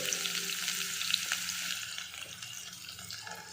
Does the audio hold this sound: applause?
no